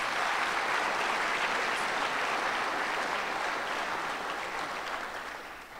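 Audience applause at a Grade 7 farewell ceremony, a steady dense clapping that fills the room and tapers off gently toward the end, with no voices over it.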